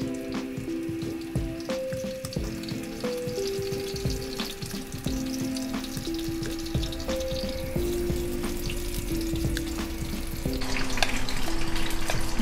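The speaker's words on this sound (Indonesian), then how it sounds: "Goreng tempe terus goreng ikan asin gitu ya" Tempe and salted fish frying in hot oil, a constant loud crackling sizzle that grows slightly busier toward the end, with background music playing throughout.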